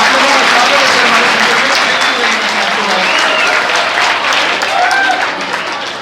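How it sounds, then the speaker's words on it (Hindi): Loud applause from a crowd of students and villagers welcoming village sarpanches, with brisk close-up clapping and some voices and shouts mixed in, gradually easing over about six seconds. "जोरदार तालियों से इनका स्वागत करो एक बार।"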